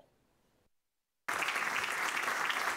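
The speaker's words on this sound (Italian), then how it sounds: "Gli applausi sono stati tanti" An audience in a crowded hall at a book presentation bursts into loud, sustained applause after a moment of near silence, the clapping dense and continuous to the end.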